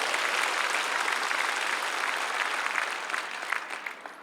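A large crowd applauds at an outdoor prayer rally for peaceful reunification at the War Memorial plaza in Seoul, a dense, steady wash of many clapping hands that fades slightly toward the end.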